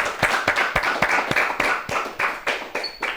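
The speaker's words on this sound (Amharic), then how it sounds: "እስቲ አጨብጭቡለት በደምብ" Audience applause for a student on an Ethiopian children's TV competition: a run of fairly regular, close claps, loud and steady throughout, with no one speaking over them.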